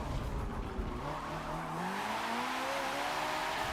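R Class racing car engines in Forza Motorsport 7 rev and whine together, pitch climbing as they accelerate, a steady roaring drone with faint tire noise.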